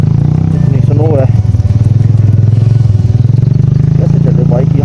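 A motorcycle engine labours on a snow-covered road near Kalam after heavy snowfall, its rough, pulsing chug held close and loud throughout while a rider talks over it.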